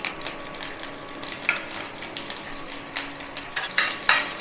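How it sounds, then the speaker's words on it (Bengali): Curry leaves and dried chili crackle and spit in hot oil, with irregular sharp pops and snaps over a soft sizzling hiss, close by and moderately loud. "ভেজে নেবো।"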